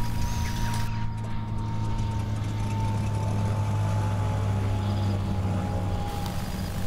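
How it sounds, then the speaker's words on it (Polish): Engines on a Skymaster aircraft run before taxiing, with a loud, steady drone and a thin constant whine that hold evenly from start to finish. "Uruchamiamy silniki i za chwilę będziemy kołować do pasa."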